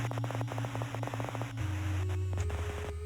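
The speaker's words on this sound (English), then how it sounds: "White noise." White noise static in a video game, a harsh hiss layered with buzzing hum and rapid ticking pulses that shift pitch partway through, with no voices.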